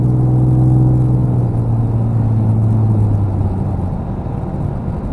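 A 2003 Ford Sport Trac truck with a custom full exhaust idles with a loud, deep, steady rumble close by, its drone holding throughout with slight variation and no talk.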